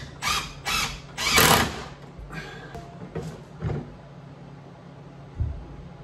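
Several bursts of a power driver sink 2.5-inch construction screws into garage cabinets, with short whirring runs close by followed by fainter clicks and a single thud.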